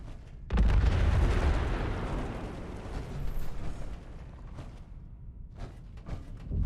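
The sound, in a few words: bombs detonating in Fallout 76 video game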